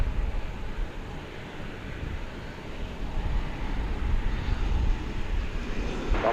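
A jet taking off at night at DFW Airport sounds as a steady, distant roar with a broad low rumble that holds for several seconds, with no talking.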